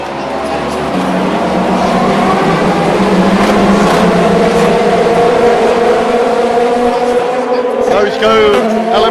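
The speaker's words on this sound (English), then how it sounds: "Excellente accélération de la Cadillac numéro 12." Race cars surging away at the start of the Le Mans 24 Hours, led by the Cadillac number 12, a loud sustained engine roar climbing in pitch, with a commentator talking over it.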